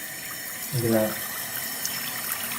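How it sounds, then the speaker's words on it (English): Water runs steadily into a badly clogged sink drain, a constant close wash of pouring and trickling, with a brief spoken remark over it partway through. "We're going to put some water in here."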